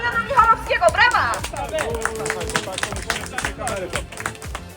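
Applause and cheering for a host on a TVN film set during a tiny house reveal, with clapping mixed into lively crowd chatter and an excited voice rising over it.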